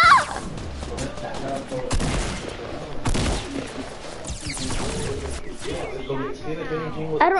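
Rapid bursts of gunfire from a Fortnite match crack repeatedly over several seconds, loud and close, with excited voices talking between and over the shots.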